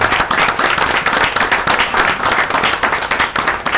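A room full of people claps steadily, a dense patter of applause at moderate volume that carries on without pause.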